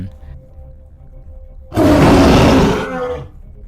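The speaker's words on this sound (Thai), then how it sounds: "อยู่ๆ เสียงคำรามของเสือใหญ่ มันก็ได้ดังสนั่นไปทั่วพื้นป่า" A big tiger roars as a sound effect: one long, loud, close growling roar that lasts about a second and a half and then fades, following a quiet low rumble.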